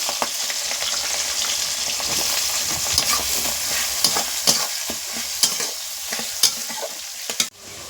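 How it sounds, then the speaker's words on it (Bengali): Chopped onions sizzle loudly in hot oil in a pan with green chillies while making a spicy mutton curry, with steady frying hiss and repeated sharp stirring scrapes, no voices. "এবার আমি পেঁয়াজ কুচানো দিয়ে দিচ্ছি"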